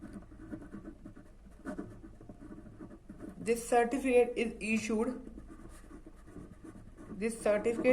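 Pen scratching across paper or a board while notes are written during a class-eleven international business revision lecture, a close scratchy writing sound running under a teacher's speech.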